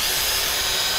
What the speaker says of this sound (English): take an extra long drill bit and drill all the way through